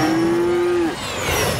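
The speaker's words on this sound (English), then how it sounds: "I did find Farmer Al's cows." A single long, steady cartoon cow moo from an animated show rings out over a constant mechanical hum, followed by a fluttering whoosh.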